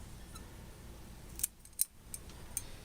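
Cutting through a rose stem while trimming it for grafting gives a few faint, sharp snips spread across a quiet background, with no talking.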